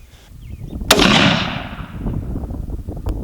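Single rifle shot from a Savage 110 chambered in .243 Winchester, a sharp loud crack followed by a long booming echo rolling away outdoors, with wind noise before and after.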